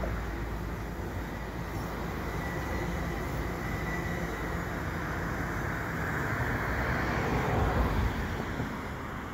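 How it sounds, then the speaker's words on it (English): An EXO commuter train, formerly EMT, rolls westbound beneath the St John's Blvd overpass near Pointe Claire station in winter, making a steady, loud rumble that swells slightly toward the end, alone with no talk. "Oh, it's an EMT train. Former EMT, now EXO,"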